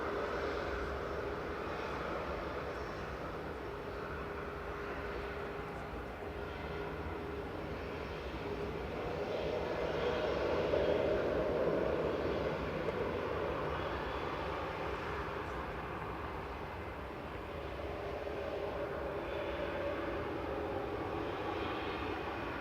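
An easyJet airliner from Paris Orly touches down and rolls out on runway 05 right at Manchester, a distant, continuous jet rumble that rises to a peak partway through and then eases off.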